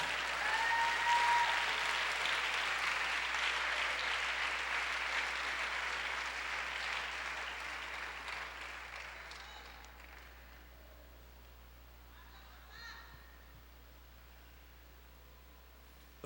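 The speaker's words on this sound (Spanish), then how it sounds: "Dale un fuerte aplauso al Señor." Congregation applauding loudly in a church service, a dense steady clapping that fades gradually toward the end, leaving quiet room tone with a faint brief sound near the close.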